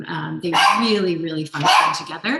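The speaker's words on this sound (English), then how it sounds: "I'm so sorry about my dog." A dog barks loudly and close by, several times, in the middle of a talk about solar energy policy. The barks overlap a person speaking.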